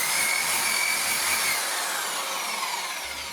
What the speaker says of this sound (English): And then I thought I'd polish the whole blade with this sander